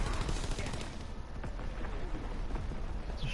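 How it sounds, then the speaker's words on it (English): Enemy artillery and gunfire in a Call of Duty match, with dense, continuous rattling shots and booming impacts filling the scene, loud and sustained throughout. "Incoming enemy artillery."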